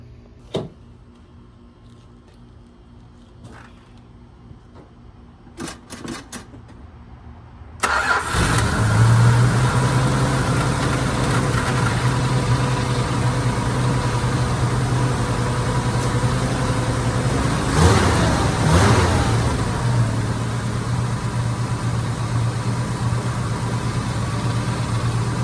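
A 1980 Chrysler Cordoba's slant six engine starts after quiet shuffling and runs steadily at a loud, close idle, with a brief rise in revs partway through and no talking.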